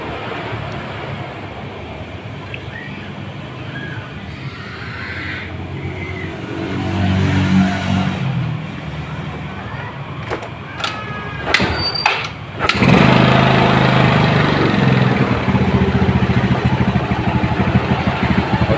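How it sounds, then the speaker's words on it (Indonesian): A Yamaha Mio motorcycle with an upgraded carburetor starts up, and its small engine settles into a loud, steady idle with a rough buzzing drone close by. "coba hidupkan ya sepeda motornya ya, apakah masih normal."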